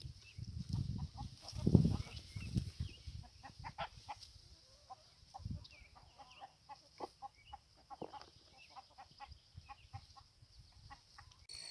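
Several pastured chickens cluck and murmur softly nearby, with scattered short calls over a quiet background and a few louder rustles early on.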